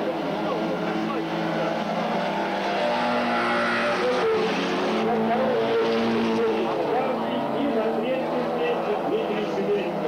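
Race car engines roar continuously at a distance on a stadium track in Minsk, Belarus, in 2000, old cars, a steady loud mechanical drone with cars passing, and a voice talks over it.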